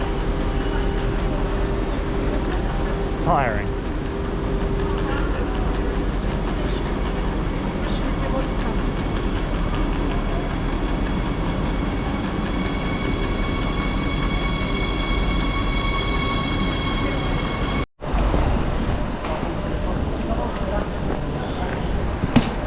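A high-speed train rumbles steadily as it rolls into a station in Munich, with a low continuous drone and faint high whines. A person speaks briefly over the noise partway through.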